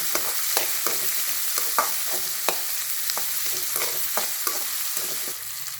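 Onion and tomato sautéing in a pan for a spicy cabbage and pea poriyal: a steady close sizzle broken by repeated scraping stirs of a spoon, with no one talking.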